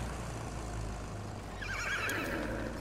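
A horse neighs in the World War I shooter Battlefield 1, a bright whinny rising out of steady battlefield rumble in the second half, moderately loud with no talk over it.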